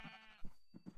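Sheep in the video game Minecraft bleat several times in a row, short nasal calls spaced irregularly and loud and close, with a brief quiet gap in between.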